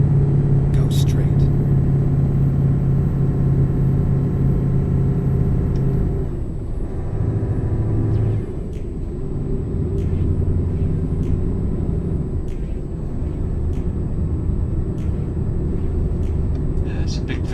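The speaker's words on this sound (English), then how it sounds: "it's a big V8 that this thing's got in at the moment. Standard Scania V8." A standard Scania V8 truck engine in a driving video game drones steadily throughout, a deep low rumble with brief shifts in pitch, loud and continuous beneath occasional talking.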